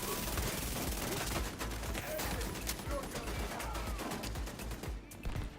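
Sustained rapid turret gunfire in The Division 2 during a heroic PvE mission, a continuous loud rattling barrage with a voice talking over it.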